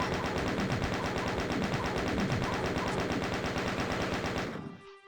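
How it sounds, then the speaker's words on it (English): A chain gun in DOOM fires a rapid, steady stream of loud mechanical shots for several seconds, each round punching out in an even rhythm before the burst cuts off abruptly into near silence. "switch back to the chain gun, which you would have gotten from that chain gunner"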